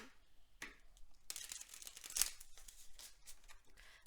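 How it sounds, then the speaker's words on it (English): Quiet papery riffling and crinkly flicks, like a deck of cards being shuffled up close, with a few sharper snaps in the middle. "Very clean shuffle there"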